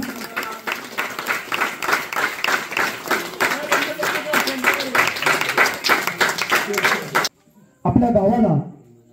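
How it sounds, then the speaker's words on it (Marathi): A crowd at a village Jayanti celebration claps steadily and loudly for several seconds, then the applause stops and a person speaks. "सर्वांनी टाळ्या वाजवा."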